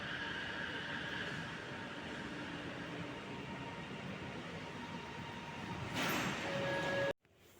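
A train pulls away with a steady rumbling roll of wheels on track and faint squealing tones, fairly close, ending abruptly in near silence.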